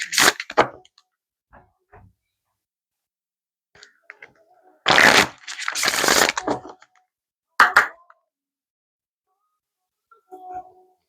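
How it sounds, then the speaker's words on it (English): Oracle cards being shuffled and drawn from a deck, scattered soft taps and two louder riffling bursts in the middle, with brief quiet gaps between. "So let's pull you a affirmation card from the Cosmic Oracle."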